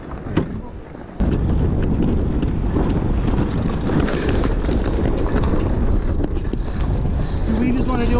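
High wind roars steadily across the microphone aboard a J109 sailboat racing in strong wind, a loud continuous rush after a brief quieter opening, with faint creaks and knocks of rigging beneath it.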